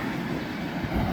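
A freight train rumbles past on the Norfolk Southern line, a steady low roar of railcars continuing without break, fairly loud and close, with no voices.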